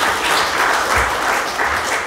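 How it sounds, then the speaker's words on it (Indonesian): A church congregation claps during a sermon, a steady wash of applause held at an even, moderately loud level throughout, with no voice over it. "Kasih tepuk tangan untuk Tuhan."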